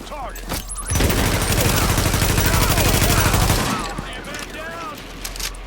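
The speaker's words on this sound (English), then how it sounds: "Weapons up. Fire on target." Sustained automatic gunfire from a squad firefight in the video game The Division, a dense loud burst lasting several seconds, with scattered game dialogue and effects before and after.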